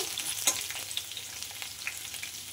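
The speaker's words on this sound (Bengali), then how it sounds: "দেখো কচুটা আমার প্রায় অর্ধেকটা মতন ভাজা হয়ে গেছে।" Taro (kochu) pieces fry in oil in a pan, giving a soft, steady sizzle scattered with small crackling pops. No one speaks.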